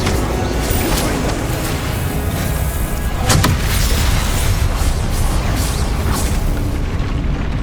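In the Hogwarts Legacy video game, a loud Confringo spell blast erupts as a sharp crack partway through, set within a dense, roaring wash of continuous combat noise.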